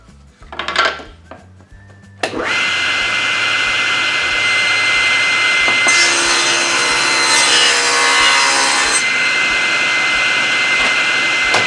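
Power saw cutting a wooden ledger to 3.5 inches against the fence, loud sustained blade whine after a brief spin-up, steady and close through the rest of the cut.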